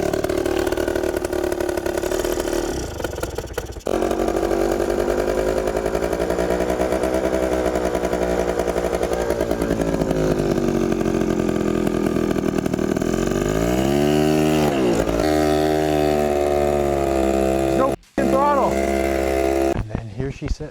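A running Adly engine is revved with the throttle opened, its buzzing note rising and falling through several loud revs up close, with a brief cut-out near the end.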